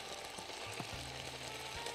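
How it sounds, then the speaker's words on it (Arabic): Chopped onions sizzle steadily in a hot pan while being stirred, giving a close, continuous hiss with a few soft scraping shifts from the spoon. "هنحط لها بقى دلوقتي البصل، نقلبها كلها"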